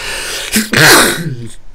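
A single sharp sneeze, close and loud, with a brief intake of breath before the explosive burst and a short tail after it.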